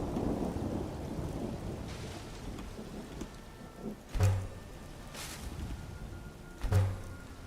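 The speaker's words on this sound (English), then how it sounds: "Ooh, very stormy." In a video game, a thunderstorm brings steady rain hissing throughout, with two sharp, loud thunder cracks a few seconds apart booming over the downpour.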